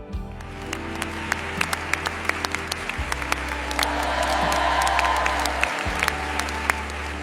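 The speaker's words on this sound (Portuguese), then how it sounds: "Aplausos ecoam por toda a igreja" Congregation applauding inside a church: a dense spread of claps with scattered louder individual smacks, over sustained low organ-like tones that shift pitch now and then.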